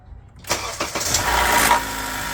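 A 2013–2017 Honda Accord engine cranks briefly after a spark plug and ignition coil job, then catches and settles into a steady, close idle.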